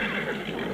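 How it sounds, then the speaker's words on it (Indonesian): A horse in a radio drama neighs in a loud, close whinny that fills the brief moment alone. "Pelan-pelan Arya Dwi Pangga menghampiri kudanya"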